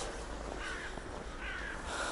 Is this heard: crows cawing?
yes